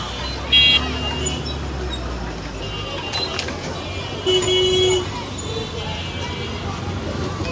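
A truck pulls in at the Jinjira bazaar cattle market in overcast weather, with a steady rumble of traffic, a couple of short horn toots, and a general crowd babble in the background.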